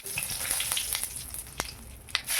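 Cumin seeds and dried red chillies sizzle in hot oil, a bright crackling hiss with a few sharp pops and a brief stir, close and without voices.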